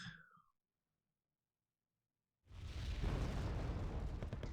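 Cluster munition barrage in the real-time strategy game Wargame: Red Dragon, a loud rumbling burst of overlapping explosions that erupts after a near-silent pause and keeps roaring to the end.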